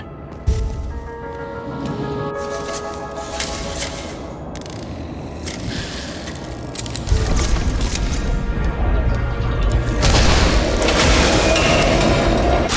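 In the video game Nobody Wants to Die, a chandelier is hoisted by a mechanism, giving loud, sustained mechanical rumbling and grinding with heavy clanks and scrapes that swell and intensify partway through.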